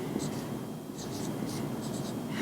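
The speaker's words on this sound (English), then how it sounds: "I'm going to write nickels." A pen or marker writing on a surface, close, with short scratchy strokes in quick bursts over a low background hum.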